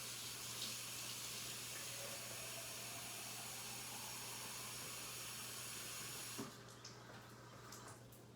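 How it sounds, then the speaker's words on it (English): Hot water runs from a kitchen sink tap in a steady, close hiss that stops abruptly near the end, leaving quieter room noise. "Let me go and get some from the sink. I'll turn on the hot water."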